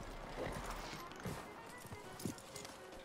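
A horse in Red Dead Redemption II clip-clops with a few soft, spaced hoof strikes, faint and slightly muffled over low background ambience.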